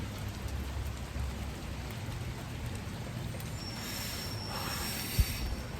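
Light rain sprinkles under trees, with droplets dripping from the branches: a faint, steady patter and one sharper drop landing close by near the end.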